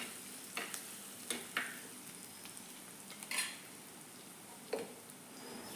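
A spoon stirs onion and coconut paste with koorka in a pan under a soft, steady sizzle, with occasional scraping clinks against the metal at irregular intervals.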